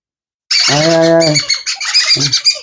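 A sun conure parrot lets out a loud, harsh squawk followed by a burst of shrill, chattering calls, close by and with no other sound.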